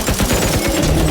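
Rapid bursts of gunfire from guns in the Dysmantle video game, a quick loud volley of repeated shots packed into about a second.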